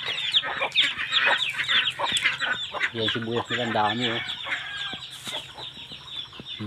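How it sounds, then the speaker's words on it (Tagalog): Chickens cluck close by in short, busy bursts on a farm in Nueva Ecija, Philippines, alongside ducks, while someone talks over them. "Ayan, may mga manok, pato, itik."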